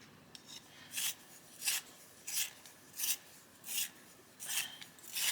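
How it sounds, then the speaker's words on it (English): A Black Widow coloured pencil being turned in a sharpener, giving seven regular rasping bursts of shaving at about one-second intervals, close and fairly quiet, with no talking. "Sorry, all you can hear is me sharpening."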